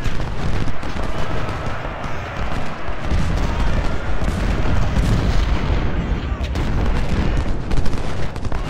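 Dense, continuous battle din of massed cannon and artillery fire in Ultimate General: Civil War at Chancellorsville, booms and rumbling volleys overlapping loudly throughout with no pause.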